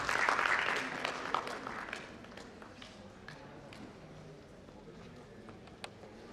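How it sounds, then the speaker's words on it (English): Audience applause at an international sports and exercise medicine conference, a brisk burst of clapping that quickly thins into scattered, fainter claps and light footsteps in a large hall. "A big round of applause for them"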